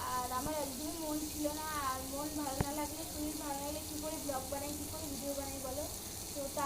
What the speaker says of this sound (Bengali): এদিকে সয়াবিন আলু রান্না করছি